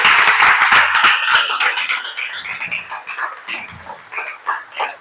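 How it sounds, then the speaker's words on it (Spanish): A church congregation applauds during a Spanish-language sermon, a dense, loud burst of many hands clapping that gradually thins and tapers off over several seconds, with no talking over it. "Dale un aplauso a Dios por eso."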